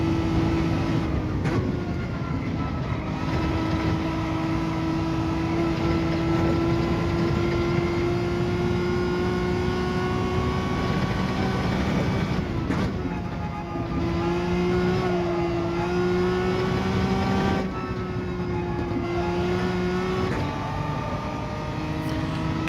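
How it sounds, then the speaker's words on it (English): A high-revving race car engine in Gran Turismo 7 at Lago Maggiore, holding a steady, loud, sustained whine that shifts pitch slightly with brief dips around gear changes, continuous throughout. "Rev's quite high, this car."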